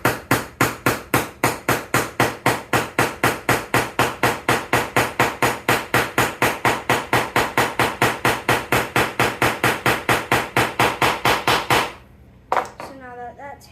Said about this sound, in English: I put it on and then I hammer.